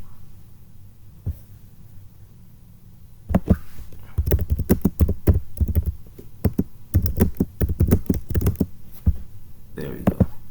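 Rapid clicking on a computer keyboard, starting with a single tap and then continuing as dense bursts of keystrokes with short pauses, close and clear, with faint background sound.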